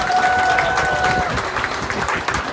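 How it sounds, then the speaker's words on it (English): Audience clapping and cheering at a dolphin show in Florida, a dense, steady wash of applause filling the whole stretch, with a faint whistle-like tone early on. "give Chopper a big round of applause"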